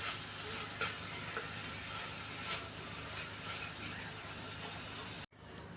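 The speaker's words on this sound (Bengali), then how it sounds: "তো নেড়ে ছেড়ে একটু কষিয়ে নিব।" Shrimp, onion and yardlong beans frying in a pan, a steady close hiss of sizzling oil with a few soft stirring scrapes, cutting off abruptly near the end.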